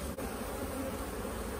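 Dense, steady buzzing of many honeybees around an open beehive during a hive split, a loud continuous hum close up with no break.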